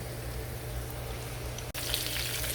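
Cauliflower frying in a pan of melted oil gives a steady, even sizzle and crackle, close and moderately loud, with a brief dip near the end before the frying noise resumes.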